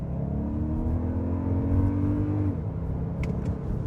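A 2024 Toyota Grand Highlander Hybrid Max SUV launches from a standstill without brake torquing, its engine and electric drive whirring up in a steady rising drone that holds loud and close, then drops in pitch as it shifts near the end.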